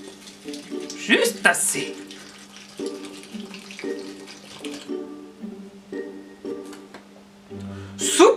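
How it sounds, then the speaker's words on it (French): Liquid is poured into a soup and splashes unevenly while a bright gurgling trickle comes and goes over several seconds, with a steady hum underneath and a brief remark in French. "Pour la soupe temporalis, versez un demi-litre de bave d'escargot."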